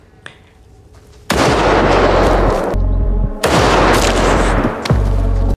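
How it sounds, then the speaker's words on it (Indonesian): Two long, loud bursts of gunfire crack and roar one after the other, very close and reverberant, after a brief quiet start. "suara tembakan mulai terdengar"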